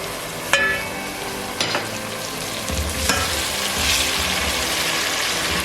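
Yogurt blended with capsicum paste hits a pan of frying onion-garlic paste for a capsicum mutton curry, bursting into loud sizzling with sharp crackles at the start, then settling into a steady frying hiss with occasional stirring.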